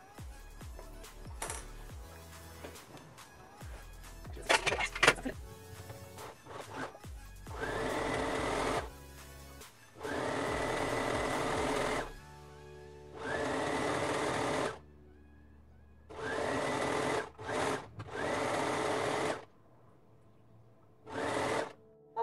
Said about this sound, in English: So I've done the zigzag going around the waistband